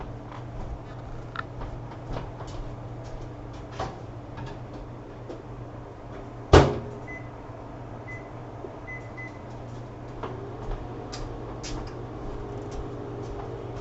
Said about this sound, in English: let's put this in the microwave